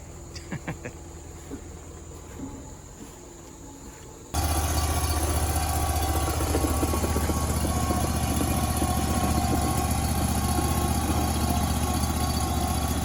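A delivery truck's hydraulic system kicks in abruptly after a few quiet seconds with faint clicks, then drones as a loud, steady engine-driven hum while a play house is unloaded.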